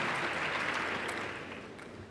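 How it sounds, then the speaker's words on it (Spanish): A student debate audience gives a brief, dense round of applause for a speaker, a steady wash of many hands clapping that tapers slightly toward the end, with no talk over it. "Un aplauso, por favor, para la presidenta."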